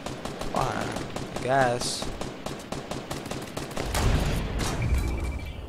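Rapid minigun fire rattles through a chaotic multiplayer shooter match, sustained bursts running under excited voices of players talking over each other.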